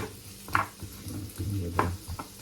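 Onions frying in a pan for Filipino bistek (beef steak), a low sizzle with a couple of sharp stirring scrapes and clinks, close and moderately quiet with no one talking.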